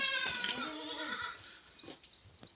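Goats bleat on a farm in the morning, one close, loud, wavering cry followed by softer, shorter bleats from others nearby, with no speech.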